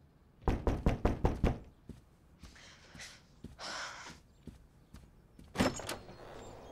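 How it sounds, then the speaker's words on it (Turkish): Knocking on a door in a Turkish TV drama: a quick burst of about seven sharp knocks, then two softer breathy noises and a second knock near the end, close and clear with no talk. "Hizmetçim Suzan bugün izinli de kapıyı açmam lazım"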